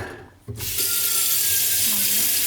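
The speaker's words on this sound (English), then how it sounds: "drop that in the sink, pour out any of yesterday's coffee" Old coffee is poured out into a kitchen sink: after a brief quiet moment, a steady, close splashing stream of liquid runs into the basin and continues to the end.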